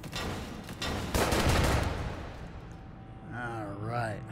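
Gunfire from a pistol in the VR shooter Hot Dogs, Horseshoes & Hand Grenades, a burst of close, loud sharp shots in the first two seconds, then a fading rumble and a voice speaking at the end.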